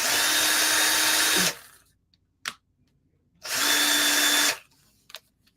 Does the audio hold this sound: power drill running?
yes